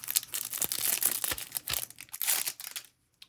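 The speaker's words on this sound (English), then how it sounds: "Comes with a cheap plastic bag around it." A cheap plastic bag around a fountain pen crinkles and crunches close up in a busy run of rustling handling noises, easing off into quiet at the end.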